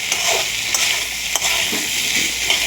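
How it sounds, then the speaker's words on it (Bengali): Fried potatoes are stirred into an egg curry pan, and the oil sizzles and crackles steadily while a spatula scrapes through at intervals, close up. "এবার আমি ভেজে রাখা আলুগুলো দিয়ে একটু নেড়ে চেড়ে নেব"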